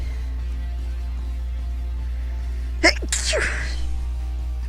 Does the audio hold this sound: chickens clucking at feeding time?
no